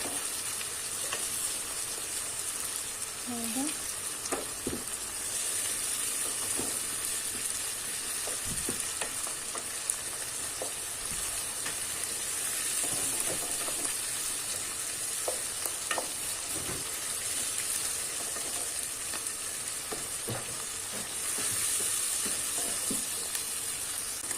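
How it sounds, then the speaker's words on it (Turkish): Tomato paste sizzling in a pan while being stirred, a constant frying hiss with scattered soft scrapes and clicks of the utensil throughout, moderately quiet and close. "Salçamızı da bir yandan karıştırıyoruz yakmamak için"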